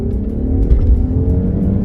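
Mercedes E 450 AMG in Sport Plus mode, heard from inside the cabin as a loud, steady low engine drone and road rumble with a slight swell partway through, no talk.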